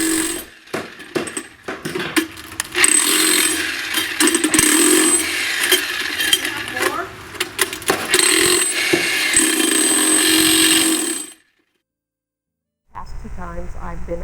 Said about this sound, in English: a jackhammer.